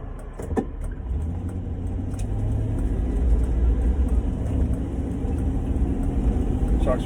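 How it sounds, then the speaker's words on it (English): A pickup truck's engine runs steadily while driving, a continuous low rumble with road noise that swells slightly after a couple of seconds, close and alone without talk. "truck's running good."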